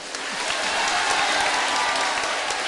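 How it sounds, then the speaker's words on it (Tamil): Audience applause at a Tamil pattimandram debate in Vellore, a dense, steady wash of many hands clapping at once, loud and continuous throughout with a faint murmur of the crowd underneath. "நல்லா கைதட்டுங்க"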